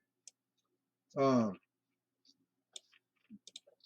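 Faint, sparse computer mouse clicks, a few isolated ticks spread apart in a quiet room, with one short voiced sound in between.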